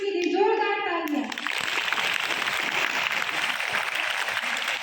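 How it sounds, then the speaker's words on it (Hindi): At a school investiture ceremony, students and teachers applaud the new student leaders. A brief voice comes first, then dense, sustained clapping from a large crowd fills the room. "एक बार हमारी नई नेत्रियों के लिए जोरदार तालियां।"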